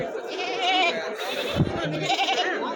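Goats bleat at a livestock market in Kadiri, with several loud, close calls over a busy crowd murmur and brief nearby voices.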